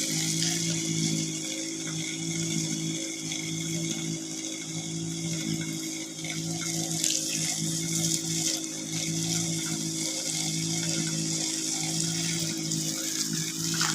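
Steady, strong stream of water spraying from a garden hose onto a Musang King durian tree, a continuous broadband hiss with slight surges that carries on unbroken throughout.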